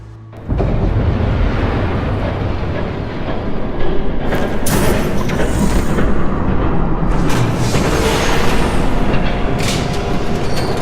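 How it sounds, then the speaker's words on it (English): A train rumbles past in Batman: The Telltale Series, a loud, continuous roar with heavy low rumble and rattling surges that swell midway and keep going for several seconds, no speech. "There's a train coming."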